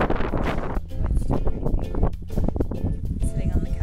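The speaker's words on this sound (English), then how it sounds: "Whoa, is it windy?" Gusty wind buffets the microphone in rumbling waves while a person talks over it.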